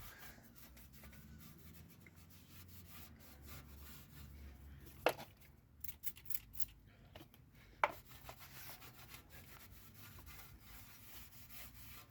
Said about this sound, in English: Just clean the dust shield up while you've got the brake disc off.